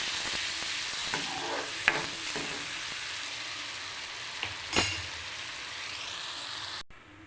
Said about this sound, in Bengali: মশলা কষিয়ে আমি জল দিয়ে দিয়েছি, আর দেখো টকবক করে ফুটছে